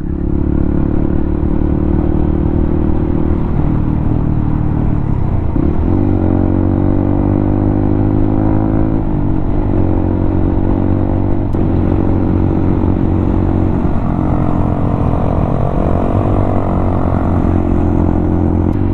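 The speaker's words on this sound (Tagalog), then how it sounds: "Bilis magpatakbo ni Mark. Malakas yung motor niya" A motorcycle engine drones steadily and loudly throughout on a night ride, with the pitch rising and falling as it accelerates and shifts, close and continuous.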